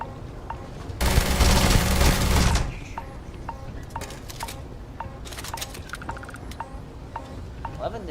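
Sci-fi gun in Starfield fires a loud sustained automatic burst for about a second and a half, then stops, leaving faint wind and repeating soft electronic blips.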